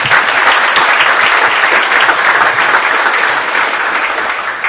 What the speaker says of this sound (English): I'd just like to give those companies another round of applause